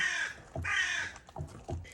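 A crow caws three times in quick succession, harsh and fairly close, with a short pause between each call and no voices.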